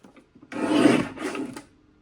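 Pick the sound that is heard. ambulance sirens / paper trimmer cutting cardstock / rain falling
paper trimmer cutting cardstock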